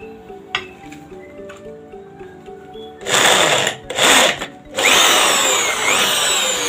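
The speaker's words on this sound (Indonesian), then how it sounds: "Setelah itu dibor dari baliknya." A power drill bores through steel: a quieter whirring start, then loud, harsh drilling bursts that start and stop several times before a sustained grinding stretch, close up with no talking.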